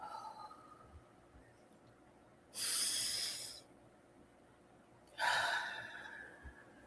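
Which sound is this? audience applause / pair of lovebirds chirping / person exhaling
person exhaling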